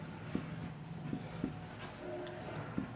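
Pen or chalk writes during a Class 10 maths lesson on triangle areas. Soft, faint strokes and taps come every half second or so under a steady room hum.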